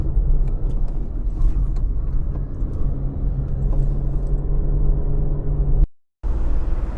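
A Renault Clio V with X-Tronic automatic transmission climbing a hill, heard as a steady low engine and road rumble from inside the car, with a brief dropout near the end.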